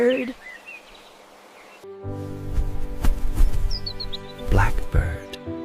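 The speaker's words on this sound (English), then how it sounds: "Bluebird." Bluebird song, a few soft warbling chirps heard up close, mixed with low background thuds and rustling, with a voice speaking briefly.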